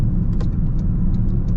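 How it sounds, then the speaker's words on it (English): Inside the cabin of a 2026 Toyota GR Corolla while driving, a steady low engine drone blends with road and tire rumble, constant and fairly loud with no voices. "you do hear the engine quite a bit, which is probably what you want to hear, right? Bit of tire noise too."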